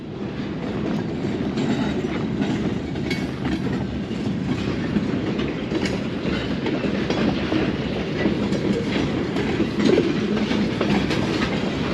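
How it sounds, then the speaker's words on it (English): A train rumbles steadily along the tracks in La Veta, Colorado, with continuous clattering wheels, loud and close throughout, no voices. "see if we can see the train coming"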